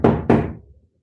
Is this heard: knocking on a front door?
yes